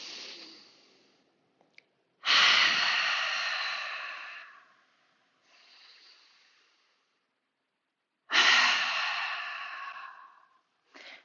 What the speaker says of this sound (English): Inhaling through the nose deeply. And exhale out through the mouth.